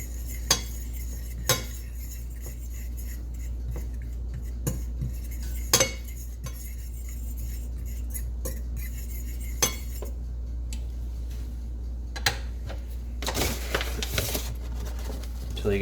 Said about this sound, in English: We're gonna whisk this.